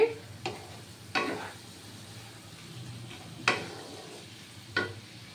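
A spoon scrapes and stirs Bengali yam curry with spices and a little sugar as it sautés in a pan, four sharp scraping strokes standing out over a quiet, steady sizzle.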